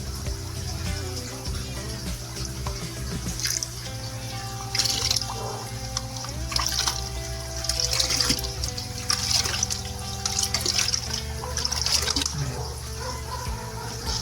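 Water pours and trickles steadily into the filter box of a home aquarium, a close, continuous splashing with scattered drips throughout.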